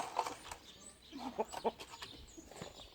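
Backyard chickens with an aggressive rooster, clucking in short bursts of close, moderately loud calls spread through the stretch, with soft background noise between them.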